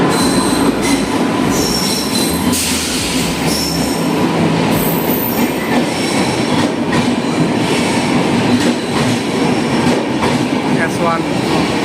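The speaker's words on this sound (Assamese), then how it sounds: "এতিয়া আমাৰ এই ট্ৰেইন আহি পালা" North East Express train pulling into a station platform, loud and close, with steady rumble, screeching wheel squeal and clacking of rail cars throughout, with faint voices in the background.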